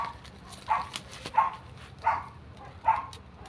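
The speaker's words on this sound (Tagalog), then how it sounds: "yung aso sa pinsan kong ingay-ingay" A dog barks four times at a steady pace, somewhat distant, with quiet background noise between barks.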